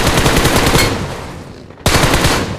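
Rapid automatic gunfire from an enemy firing down from higher ground in PUBG Mobile, loud and close, a dense burst that briefly drops away and then resumes sharply.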